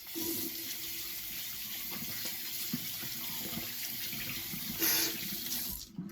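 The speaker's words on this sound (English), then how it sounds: "Let's wash these hands." Hands are washed under a running tap, a continuous close stream of water splashing into a sink for about six seconds before it cuts off.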